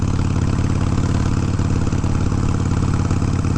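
Harley-Davidson Sportster 883 fitted with a Hammer 1275 big-bore kit, barely on the throttle while cruising, its engine giving a steady, loud, lumpy low rumble that runs evenly without pause.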